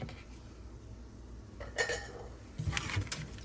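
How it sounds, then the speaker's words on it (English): Boiled ackee being tipped into a metal strainer to drain in a Jamaican home kitchen, faint clinks and scrapes of metal cookware, then a brief clattering rattle and wet tumbling near the end. "let me go ahead on and pull the ackee in here so I could drain everything off"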